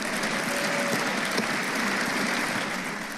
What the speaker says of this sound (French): rien que le volume sonore de leurs applaudissements